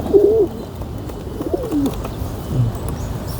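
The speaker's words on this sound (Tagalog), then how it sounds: "May dala kasi akong kalapati." Pigeon cooing close by, several soft throaty rolling coos in a loose sequence over a steady outdoor background hum.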